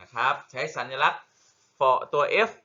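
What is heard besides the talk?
No everyday noise stands out behind the speech.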